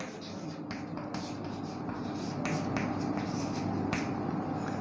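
Someone writes out a sentence on a board during an English lesson, giving a series of short, faint scratching and tapping strokes with brief pauses between them, heard close and quiet over a low room hum.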